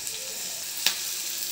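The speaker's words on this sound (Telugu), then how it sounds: "పసుపు వేసుకొని ఇలా వేపుకుంటున్నాను" Onions frying lightly in a pan with a little turmeric for mango pickle, a steady soft sizzle throughout with one brief stir or clink near the middle.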